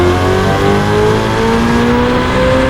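A Ferrari F8 fitted with a complete Novitec straight pipe exhaust and lowered on Novitec springs revs loudly and steadily up close, a raw sustained engine roar with shifting tones and no talking.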